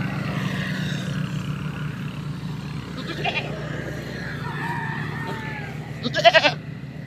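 Two short bleats from a pregnant goat, one midway and a louder one near the end, over a steady low rumble of background noise.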